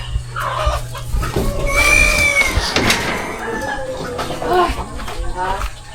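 A chicken clucking in a pen at a home, a few short clucks and calls heard near the microphone under and between people talking.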